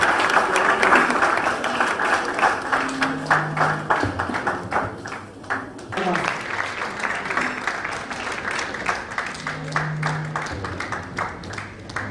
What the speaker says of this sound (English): may we give him a round of applause as he addresses all of us